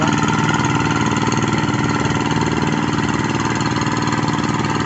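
Hand tractor on a farm field towing an assembled leveling board, its engine chugging in a steady, even drone at close range without pause or speech.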